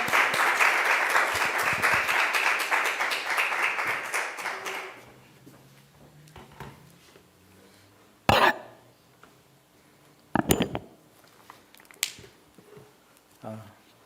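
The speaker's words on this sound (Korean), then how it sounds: "우리 큰 박수 하겠습니다" A congregation at a Wednesday worship service applauds loudly to welcome a missionary guest. The dense clapping fades out after about five seconds into a quiet room with occasional coughs, taps and small handling noises.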